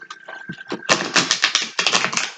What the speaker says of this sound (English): I'm just going to give these cards a bit of a shuffle